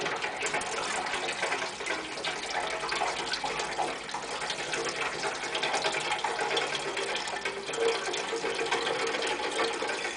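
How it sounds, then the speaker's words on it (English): Sparge water pours steadily into a prototype automated home brewing machine, a continuous soft gushing and splashing stream that lasts throughout with no talking. "And we're going to add sparge water now."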